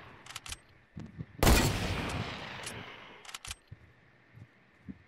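A sniper rifle in a video game fires one sharp, loud shot whose rushing tail fades over about two seconds, surrounded by faint scattered clicks and taps.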